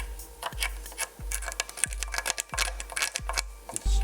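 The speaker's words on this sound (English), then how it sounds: "Let's continue to scrape around and see what else we can break free from the corners and crevices." A tool scrapes and rubs inside the body cavity of an old Stratocaster guitar, loosening debris from corners and crevices in a series of short, rasping strokes with occasional sharp knocks.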